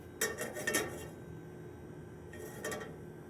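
Salmon fillets laid into a hot, smoking pan: two short clattering bursts of contact and sizzle, one near the start and another about two seconds later, close and fairly quiet with no talking.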